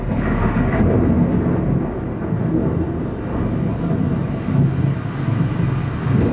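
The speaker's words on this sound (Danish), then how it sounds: "Vi har også mulighed for her i Hørsdal at træne vejrscenarier, som for eksempel lyn og tordenvejr." Thunderstorm sound effect played during a weather training scenario at a simulation town: a continuous low rumble, loud and close, swelling slightly in places with no talk over it.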